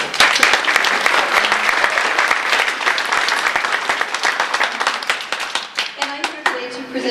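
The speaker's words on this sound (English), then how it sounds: "So I think we should just give them a big round of applause." A graduation audience at Willmar Public Schools' ALC ceremony gives a loud, dense burst of close hand clapping that thins out toward the end as voices begin to talk.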